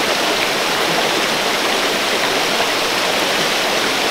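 Steady, loud rush of a waterfall and river stream, a continuous broadband roar of falling and flowing water with no talk, filling the whole stretch evenly.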